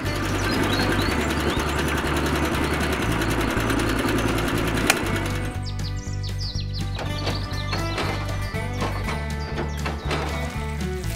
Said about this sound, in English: Concrete mixing machine.